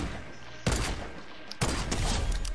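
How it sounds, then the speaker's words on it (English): Gunfire in the video game Fortnite as players shoot NPCs: two loud bursts of shots, the first lasting about a second and the second running to the end, close and dense over a busy game background. "Shoot every NPC."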